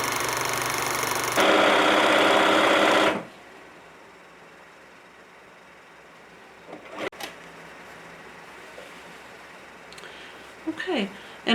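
A sewing machine set to a 2.5 stitch length runs in a loud steady whir for a few seconds, then stops, leaving quiet room tone with a few faint clicks.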